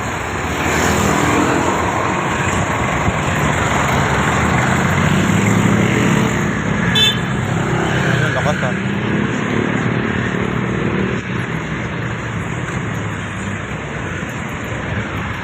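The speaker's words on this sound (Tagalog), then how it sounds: "Traffic to pag umaga." Steady morning road traffic, cars and motorcycles passing on a Philippine street, a continuous close rumbling roar of engines with no talk.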